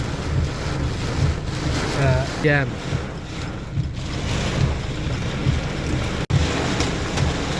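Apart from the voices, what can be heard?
heavy rain and storm on a car in traffic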